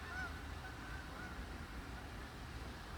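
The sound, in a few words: geese honking as they fly off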